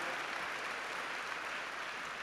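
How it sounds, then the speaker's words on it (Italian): A public assembly audience of industrialists applauds, a steady, distant wash of many hands clapping evenly for a couple of seconds, fairly quiet with no talk over it. "Un applauso meritato per la franchezza"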